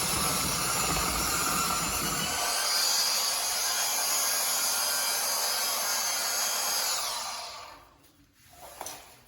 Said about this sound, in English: We're just going to gently rub against until we get all that texture off.